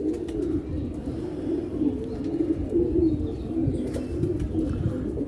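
Pigeons coo continuously in low, warbling murmurs, overlapping into a steady throaty drone with faint background noise.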